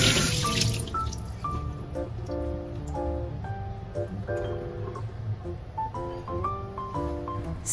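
Lean pork rinsed under a running kitchen tap while preparing a soup of taizishen, walnut and chestnut, a steady splashing water stream at close range throughout, with no one speaking.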